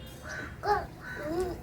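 Crows cawing outdoors, three hoarse calls in quick succession at moderate distance, with no talk over them.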